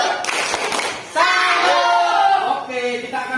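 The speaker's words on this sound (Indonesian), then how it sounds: "Oke, tepuk tangan untuk kita semua" Primary school pupils in a classroom burst into loud, fast applause together while shouting and cheering, and the clapping carries on steadily for a few seconds.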